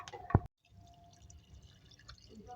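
Water is added to a cooking pot of whole spices, bay leaves, salt and turmeric for shami kabab: a brief splashy pour, then a quiet low simmer.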